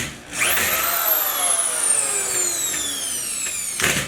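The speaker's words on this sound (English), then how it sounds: "we need screw gun to pull out these" A screw gun backing screws out of metal studs while framing a commercial door opening, with a loud close whine that slowly drops in pitch across several seconds and ends in a short burst.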